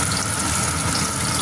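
A small amount of water is poured into a pan of chicken marinated in red bean curd, giving a steady, continuous close splashing gush.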